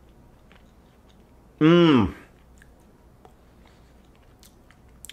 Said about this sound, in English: it's time to eat your eight peas. I recommend eating them one at a time